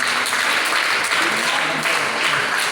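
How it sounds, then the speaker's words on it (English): Sustained audience applause fills a school Maths Day assembly, a dense even wash of clapping with no pauses, fairly loud and close throughout. "Give him a big round of applause."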